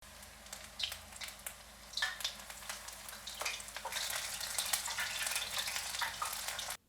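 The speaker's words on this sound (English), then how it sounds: "now I'm going to fry the rest." Shrimp tempura fries in hot oil in a wok, a soft crackling sizzle that starts gently with scattered pops and swells into a steady, denser hiss before cutting off abruptly.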